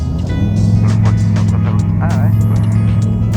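A Rotax 912 ultralight aircraft engine drones loud and steady through the takeoff roll on a runway, a continuous low throbbing hum with brief cockpit voices over it.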